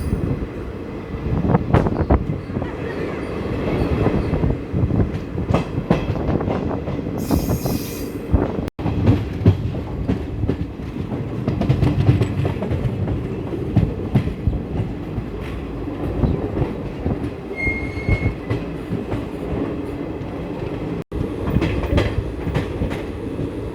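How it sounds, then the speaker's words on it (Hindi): Onboard the Narsapur–Nagarsol SF Express pulling out of Khammam station, the train rumbles and rattles continuously with rhythmic wheel clatter and occasional high squeals, loud and close throughout, with no talking. "आधे घंटे के डिले के साथ हमारा यहाँ से डिपार्चर हो चुका है खम्मम रेलवे स्टेशन से।"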